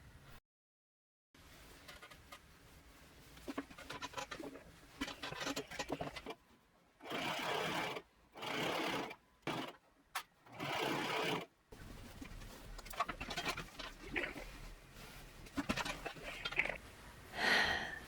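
A sewing machine stitches the hem of a gold kaftan top in several short bursts of rapid whirring, separated by near-silent pauses, close up and without talk.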